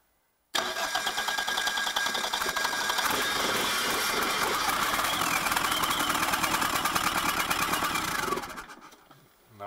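A homemade 20 kW diesel generator built from assorted parts starts abruptly and runs in a loud, rapid, knocking clatter for about eight seconds, then winds down and stops, close and without voices.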